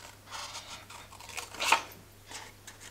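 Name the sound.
scissors cutting around a paper card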